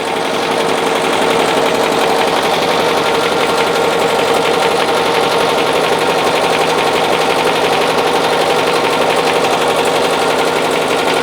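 A BAi Vision embroidery machine stitching a 3D puff design runs loud and steady, its rapid needle hammering forming a dense, continuous mechanical chatter throughout.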